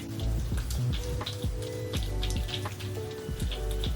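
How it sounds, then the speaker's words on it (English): Wet, squelchy lathering of face wash rubbed between the hands, heard close up as a steady, dense run of small slippery squishes and drips. "take one pump of the face wash, lather it into my hands"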